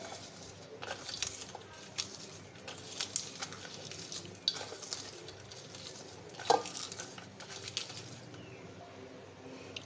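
Chopped onion and egg mixed by hand in a bowl, producing soft, continuous squelching and patting with occasional light clinks, fairly quiet and close, with faint birdsong in the background.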